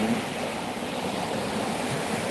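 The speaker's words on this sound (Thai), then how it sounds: "ฟังเสียงคลื่นสดเบา ๆ" Gentle ocean waves wash steadily onto the shore, a soft, even hiss of surf with no distinct breaks and no voices.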